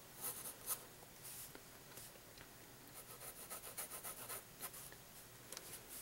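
A pencil sketches futuristic buildings on paper, close and soft, with rapid scratchy strokes of varying length and brief pauses between bursts, heard alone without any voice.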